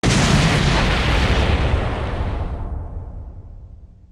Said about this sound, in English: Dang it, Pedro, you literally broke the fourth wall by literally exploding me